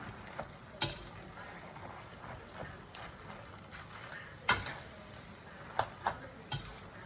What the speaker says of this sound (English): Mix the noodle with the vegetable